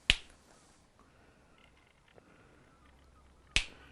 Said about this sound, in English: Now I snap my fingers again